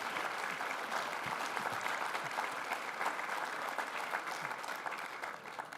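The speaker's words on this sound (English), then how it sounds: "Round of applause for John McManus and Michael Bell." Sustained applause from a conference audience fills the hall, a steady dense clapping that holds at an even level for several seconds before starting to fade, with no voices over it.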